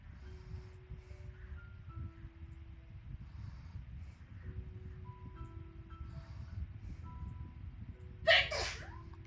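A single sneeze bursts out near the end, sharp and fairly close, over a low steady background hum with faint tones in a quiet indoor space.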